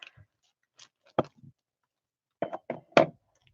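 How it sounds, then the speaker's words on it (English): A scatter of sharp clicks and clatters as small flat glass rocks tumble from a knocked-over jar, a few isolated taps followed by a quick cluster of knocks in an otherwise quiet room. "I knocked over an entire jar full of those little flat glass rock things."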